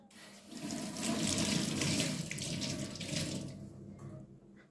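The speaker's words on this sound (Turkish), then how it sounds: "Şimdi tülümü ıslatıyorum arkadaşlar" Running tap water from a kitchen faucet splashes steadily onto a cleaning cloth being wetted at a sink, a continuous close rush lasting several seconds before tapering off, with no talking.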